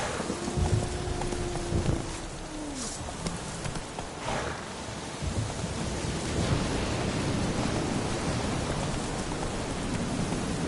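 Roach, a horse in The Witcher 3 video game, trots with soft rhythmic hoof clops over a steady rain-like wash of ambient noise, fairly quiet and without speech.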